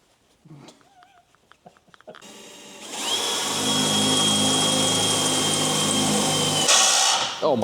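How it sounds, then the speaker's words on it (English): Power drill boring holes during a Land Rover Series 3 fuel system restoration, starting with a rising whine, then running at a steady loud high pitch for about four seconds before stopping, after a few faint clicks and brief voices. "be drilling some holes"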